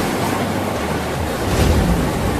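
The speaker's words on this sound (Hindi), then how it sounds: "देखो कितनी तेज बारिश हो रही है" Heavy rain pours down in a steady, dense roar that fills the whole stretch evenly and stays close and loud, with no voices.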